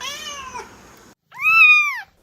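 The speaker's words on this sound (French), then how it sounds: "Appelez votre chat, c'est l'heure du double miaou." A cat meows twice up close: a first drawn-out, wavering meow, a short pause, then a louder, clear second meow.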